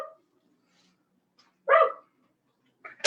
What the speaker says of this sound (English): Neighbor's dog. You hear that?